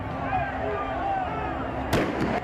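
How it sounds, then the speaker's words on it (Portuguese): Explosions set off on the pitch during a Santos versus Corinthians Copa do Brasil football match, a sharp blast late in the moment followed by a couple of smaller cracks over a murmuring stadium crowd. "Ao todo, foram 23 explosões no gramado."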